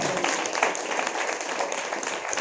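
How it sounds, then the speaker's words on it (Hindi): A church congregation claps loudly to glorify God, a dense, continuous burst of applause heard close and steady throughout with no talking. "यहाँ पर जोरदार ताली बजाकर प्रभु को महिमा देना।"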